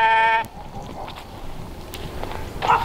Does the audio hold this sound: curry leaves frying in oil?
no